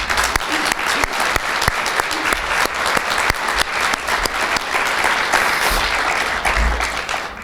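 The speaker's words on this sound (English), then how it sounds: "So we get a round of applause" Audience applause for the author's parents, seated in the second row at a best-seller book launch celebration, a steady, full round of clapping from a large crowd lasting throughout.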